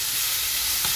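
Food fries in Arbequina olive oil for a traditional Qazvin qeimeh stew, giving a steady, dense sizzle and hiss with a brief stir or spatter near the end.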